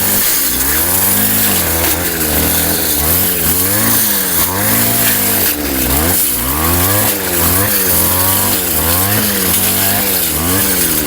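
Grass cutter engine running while cutting grass, a loud, close two-stroke whine that rises and falls again and again as it bites into the growth, with no talk.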